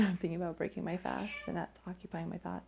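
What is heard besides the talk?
cat meowing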